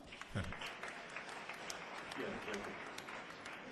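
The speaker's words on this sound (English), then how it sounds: "So give yourselves a round of applause" Applause from the audience at a Georgia Capitol ceremony honoring Ludacris, a faint, steady patter of many hands clapping in a large room, with a few louder claps near the start.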